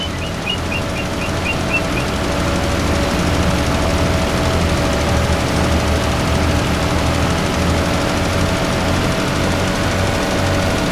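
A small tractor engine in a farming simulator game drones steadily and loudly at close range with a constant mechanical hum, and a faint series of short beeps sounds early on.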